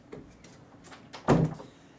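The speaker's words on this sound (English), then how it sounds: "let me close my door." Door being closed indoors: faint shuffling and handling, then a single solid thump as it shuts, quiet room otherwise.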